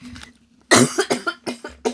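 A person coughs several times in a quick, close, loud burst of short harsh barks, heard on its own without talk.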